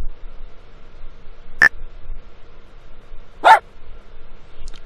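A sharp click and then, about two seconds later, a short single yip from a cartoon dog in a toddler counting game, both brief and isolated against a quiet background.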